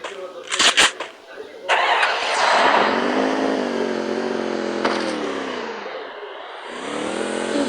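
A motorcycle engine starts after a few sharp clattering knocks, then settles into a loud, steady running note that dips and recovers briefly near the end.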